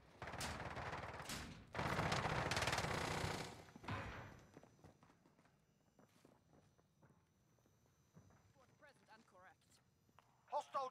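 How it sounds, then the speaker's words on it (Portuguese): Bursts of gunfire ring out in a Warzone match, loud dense volleys in the first four seconds, then quieter scattered shots and footsteps with talk over them. "estão uns tiros lá fora"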